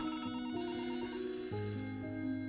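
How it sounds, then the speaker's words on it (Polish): Telephones at police stations ring continuously in a steady electronic trill, with the tone shifting partway through, and no voices. "telefony na komisariatach dzwoniły non-stop"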